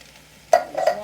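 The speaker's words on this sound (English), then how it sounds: "we're going to add 2 cans of diced tomatoes" Two cans of diced tomatoes poured into a hot pan: after a quiet moment, a sudden loud sizzle and splatter that sputters on briefly, close up, no talk.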